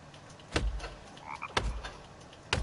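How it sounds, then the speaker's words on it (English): Three low, raspy video-game frog croaks at roughly one-second intervals, moderately close, with a faint chirp between them. "I can hear the frog behind me."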